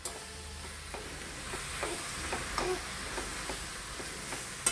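Chicken liver and gizzard being mixed in a pan over a low flame: a soft background sizzle with a series of light scraping stir strokes, fairly quiet, and no speech.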